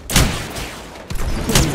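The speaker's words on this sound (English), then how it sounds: "I am taking fire, friends." Bursts of gunfire from a flying combat video game, two loud broadband volleys at the start and near the end with steadier rattling between, no voices.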